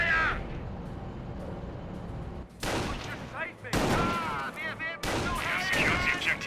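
Battle gunfire in the Company of Heroes strategy game during an Operation Market Garden mission, with bursts of shots and explosions arriving in sharp loud blocks while clipped radio-style voices talk over them.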